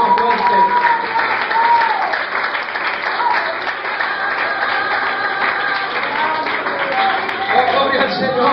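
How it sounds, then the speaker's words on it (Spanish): A church congregation applauds loudly and continuously, dense clapping filling the space with voices mixed in and a melodic voice audible over the start. "Dale ese aplauso a Cristo más fuerte."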